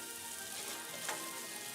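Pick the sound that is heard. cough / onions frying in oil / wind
onions frying in oil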